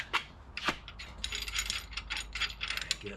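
Ratchet wrench, 7/8 size, clicking as it turns a bolt on a brake caliper bracket during a custom Brembo brake swap on a 1972 Chevelle; a close, quick series of metallic ratcheting clicks in bursts.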